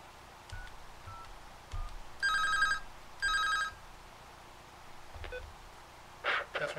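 A field telephone rings through an LP10 Polish switchboard in two short buzzing ring bursts about a second apart, surrounded by faint clicks and handling noises, with no talking.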